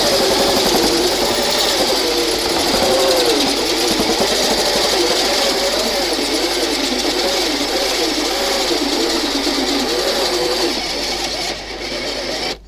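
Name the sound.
cordless drill drilling hole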